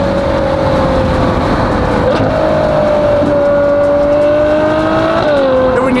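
A Ferrari engine runs steadily nearby, its pitch shifting and dropping with gear changes as it blips through downshifts, loud and continuous with no talking.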